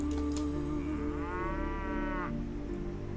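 A single drawn-out cow moo from the video game Mount & Blade: Warband Viking Conquest rises over a steady, droning background, fairly clear and close.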